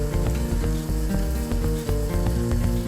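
Rasgulla balls go into a pot of boiling water, with a steady, close, busy bubbling and sizzling that continues throughout alongside a low tonal hum, and nobody talks.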